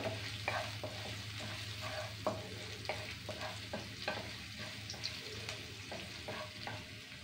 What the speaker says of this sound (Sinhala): සුදු ලුණු රන්වන් පාට වෙනකම්ම අපි මේක ෆ්‍රයි කරගන්න ඕනේ.